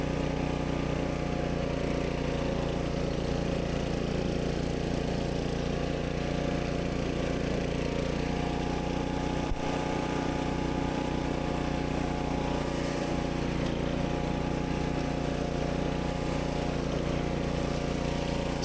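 A DR Pro 26 field and brush mower, rated 14.5 horsepower, runs steadily through thick growth in first gear, its engine drone loud, close and unbroken throughout.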